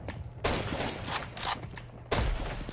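Bursts of rapid gunfire in a Counter-Strike 2 match, two loud volleys a couple of seconds apart, close and harsh with little else beneath them.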